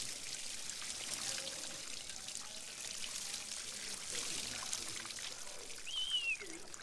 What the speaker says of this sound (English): rinse her off with some fresh water.